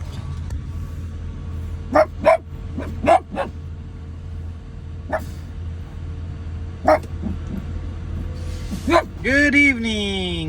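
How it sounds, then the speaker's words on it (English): Dog Frankie barks in several sharp bursts at a truck stop with a reefer trailer nearby, heard over a steady low engine hum, with a voice near the end. "And Frankie's over here barking."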